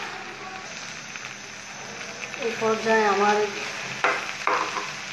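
Beef tripe fries in a pan, giving a continuous sizzle with occasional stirring scrapes, while a person talks over it.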